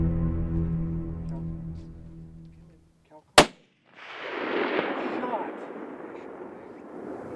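A single sharp, loud rifle shot cracks out during a bull elk hunt among aspens, following a fading low engine-like hum, then a long rolling echo and rustle afterward.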